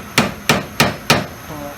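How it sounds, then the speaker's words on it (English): A punch is hammered to stake a Yamaha Rhino 660 axle nut, giving four sharp, evenly spaced metallic hammer strikes close up, each with a short ringing decay. "flat the nut down to the little flat spot. Use a screwdriver"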